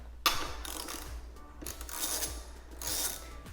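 Tool turning the 10mm bolt on the seat strap of a 2021 Suzuki DRZ400SM, quiet metallic clicking and ratcheting in a few short spells with brief pauses, close and faint.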